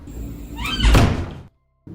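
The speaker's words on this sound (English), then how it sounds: "she captures a door closed by itself" A door swings shut with a heavy wooden thunk after a rising creaky slide, recorded indoors by a Ring security camera, followed by a moment of near silence and faint room noise.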